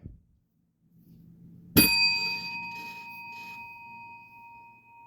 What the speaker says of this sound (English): The bell always soothes me.